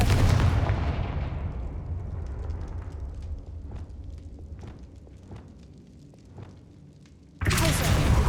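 Loud blasting-spell explosions from the Hogwarts Legacy video game: a heavy boom opens, then a string of sharp cracking blasts rings out over a dense rumbling mix, before another loud burst hits near the end.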